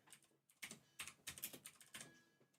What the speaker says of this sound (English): Man, actually typing my name.